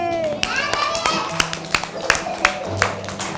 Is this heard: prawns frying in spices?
no